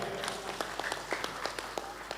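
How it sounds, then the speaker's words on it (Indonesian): Crowd applause for the organizing committee at the Kerja Tahun 2025 harvest festival in Cingkes village, heard as scattered, distinct claps over a background murmur. "Tepuk tangan untuk panitia."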